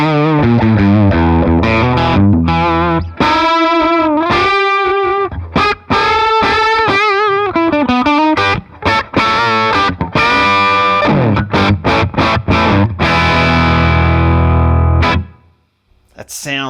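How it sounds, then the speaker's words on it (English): A cranked guitar amp drive from a BIAS MINI amp into a 112 open back cab, loud overdriven chords and single notes ringing out with sustain, then fading at the end. "we could actually crank that master up to get more of that thick drive."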